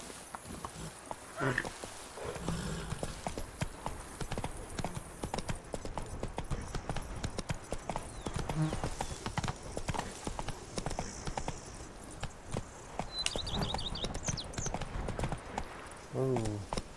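Horse hooves clop in a scene from The Witcher 3: Blood and Wine, steady footfalls amid busy background noise and occasional voices.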